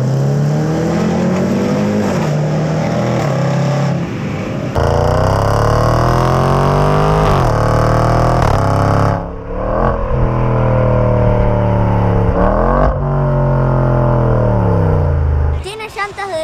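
A Range Rover SVR engine with its special sound system active revs hard in several loud climbing and falling surges, with brief drops between pulls; no talk is heard over it.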